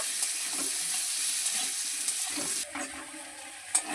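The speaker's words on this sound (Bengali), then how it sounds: "কিছুক্ষণ সময় নিয়ে মানকচুগুলো ভেজে নিয়েছি" Boiled giant taro (mankochu) frying with tomatoes in a pan gives off a steady close sizzle with soft scraping stir sounds. The hiss drops sharply near the end.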